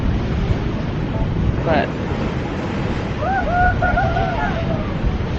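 Strong wind buffeting the microphone on a windy Curacao coast, with surf crashing and splashing steadily close by, and a voice briefly speaking over the roar.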